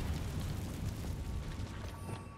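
A Confringo explosion spell in Hogwarts Legacy erupts as a dense, rumbling boom with a heavy low roar that holds steady for a couple of seconds before easing slightly, loud and close, no talk over it.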